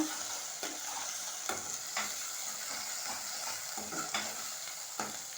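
Ginger-garlic paste fries in oil with cloves for a brinjal curry, with a soft continuous sizzle broken by regular spoon scrapes and taps against the pan, close and fairly quiet.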